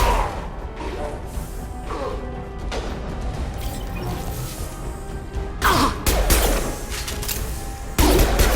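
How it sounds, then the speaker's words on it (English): Impact shot gunfire in Mass Effect 2, with sharp crashing blasts and thuds standing out over a constant game-combat bed, the heaviest bursts coming near the end, loud and close. "Firing an impact shot!"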